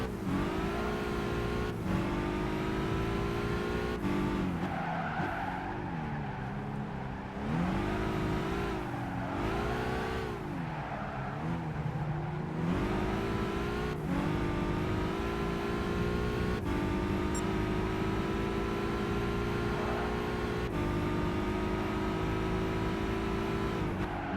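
A Mini hot hatch in Gran Turismo 5 screams at high revs, its engine note rising and falling through gear changes as the front wheels spin, loud and continuous throughout.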